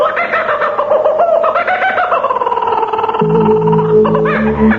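A rooster crows with a long, wavering, drawn-out call, loud and close, as other clucking and low background noise join toward the end.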